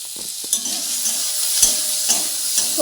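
Vegetables softening as they fry in a pan, giving a steady broadband sizzle broken by several sharp scraping stirs at irregular intervals, close and fairly loud, with no voices.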